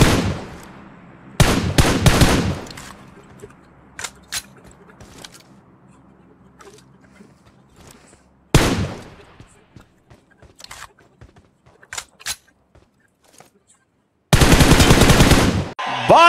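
Machine gun bursts in the PUBG battle royale game crack out in several loud rapid volleys separated by sparse single shots and quieter gaps, with a player talking at times.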